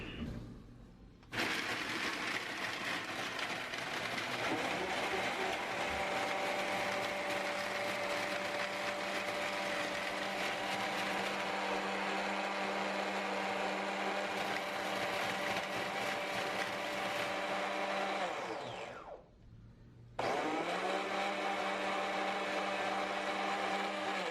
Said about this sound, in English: it grinds the right amount of ice and puts it in the pitcher and mixes it